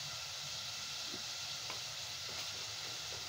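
Nigella seeds (kalonji) hitting hot oil in a home kitchen pan give off a steady, close broadband sizzle and hiss with a few faint clinks, no talking.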